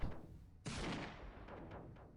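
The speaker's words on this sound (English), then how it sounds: "your cannon is firing" A cannon fires in the Space Engineers video game during a starship battle: a sudden loud blast with a rumbling, decaying tail, followed by fainter repeated bursts of lighter weapons fire.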